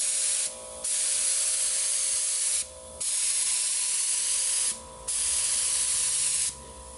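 A spray gun hisses in four separate bursts, each lasting over a second, with short quiet gaps between them, close and steady.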